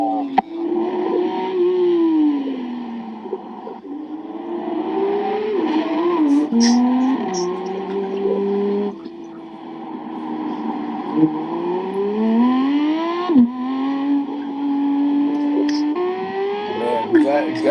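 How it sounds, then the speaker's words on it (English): A car engine in a racing video game whines and revs up and down through gear changes over a long stretch, revving too high at times, under steady talk from people. "He's revving it too high. You gotta upshift, man."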